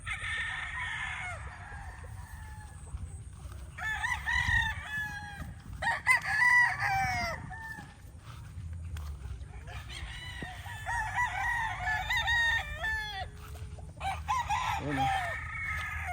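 Roosters crow several times in a row on a farm, with hens clucking between the calls over a low background hum.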